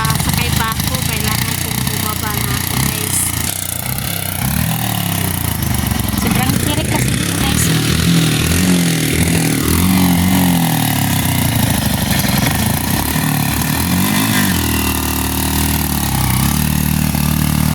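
A motorcycle engine labors loudly and steadily, revving under strain as it climbs uphill on a rough rural road, with people talking over the constant rumble.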